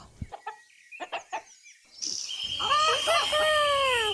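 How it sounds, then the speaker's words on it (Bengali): Cartoon chickens and ducks calling in a yard, a few short clucks followed by a loud, continuous rooster-like crowing and squawking. "তখন হঠাৎ করে আমার উঠোনে মুরগি আর হাঁসের ডাক শোনা গেল।"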